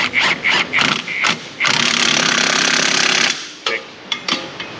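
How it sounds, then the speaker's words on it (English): An impact wrench drives bolts on the front end of a Ford Mustang GT with a 4.6 engine in a garage, with several short bursts followed by one long sustained rattling run, then a few more quick taps. "All right, impacts coming in."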